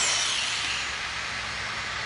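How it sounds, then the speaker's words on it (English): A steady, loud hiss of air rushing out through a small hole drilled in a 220-gallon rain water barrel, continuous and close, tapering slightly over two seconds. "You can hear the air gush out."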